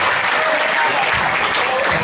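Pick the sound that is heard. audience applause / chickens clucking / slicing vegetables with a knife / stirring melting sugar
audience applause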